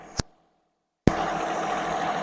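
A farm vehicle driving into a row of a field with corn stalks: after a sharp knock and a moment of silence, its engine runs with a steady mid-pitched drone, close and constant.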